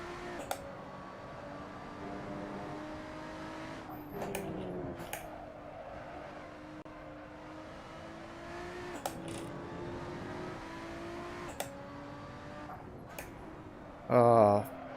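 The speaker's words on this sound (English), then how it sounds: "My engine screaming for forgiveness or screaming for mercy" A race car engine in a sim racing video game drones steadily, pitch rising and falling with gear shifts and sharp clicks of gear changes, moderately loud and continuous throughout.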